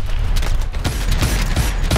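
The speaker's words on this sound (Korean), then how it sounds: "야, 이거 대포야." Rapid bursts of heavy turret cannon fire in Call of Duty: Advanced Warfare boom repeatedly, loud and close, in quick succession with mechanical clanks.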